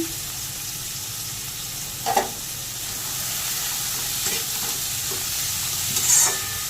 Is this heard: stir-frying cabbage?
yes